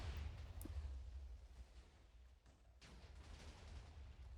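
Two TNT cannons fire together in Minecraft, giving deep, booming blasts with a heavy low rumble. A sharp crack comes near the start and another burst follows partway through, with no voices over them.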